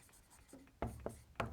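Chalk or marker strokes writing on a board during a math lecture, a few quick scratchy taps and short strokes spaced irregularly, fairly close and clear with no talk over them.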